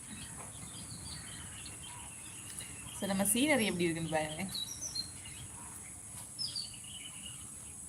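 Sparrows chirp outdoors in short, scattered high-pitched calls, faint in the background. Someone speaks over them in the middle of the stretch, and insect buzzing hums underneath.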